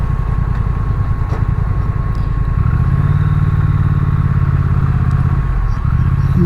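Motorcycle engine on a mountain road climb of the Col de Tourmalet in the Pyrenees, a loud, close steady drone that shifts in pitch partway through as the bike drops into first gear.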